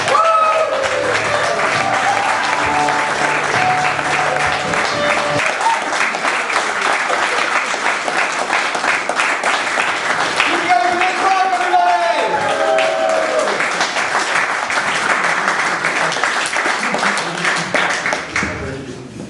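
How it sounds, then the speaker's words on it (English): A comedy club crowd at a stand-up night in Dawley claps and cheers for the next act, with dense, loud, sustained applause filling the room while a voice carries over it. "Lots of cheering and clapping for your next act."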